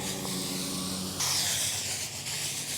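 A worn-out garden hose sprays water with a steady broadband hiss, close and continuous, the spray brightening and shifting in tone partway through as the stream changes.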